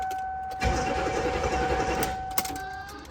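A Hummer H1 with a 6.5 turbo diesel engine cranks without starting: a starter whirs steadily for about two seconds and then stops abruptly, while a high electrical whine sounds throughout and no one speaks.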